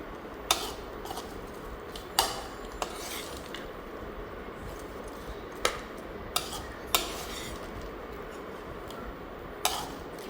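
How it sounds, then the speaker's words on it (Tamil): Bhelpuri ingredients are tossed together in a bowl, with scattered sharp clinks of a spoon against the bowl over a faint, steady background and no talking. "It's mixing time."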